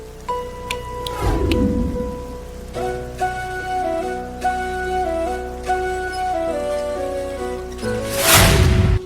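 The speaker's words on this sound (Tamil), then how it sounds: "அதுக்கும் வழி இல்லாம இந்த மழை இப்படி பெஞ்சிட்டு இருக்கு" Heavy rain pours down while thunder cracks and rumbles loudly near the start and again near the end, with sustained tonal music layered over the storm.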